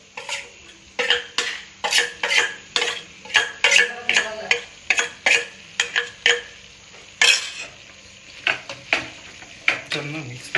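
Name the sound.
mixing chapathi veg roll filling in a pan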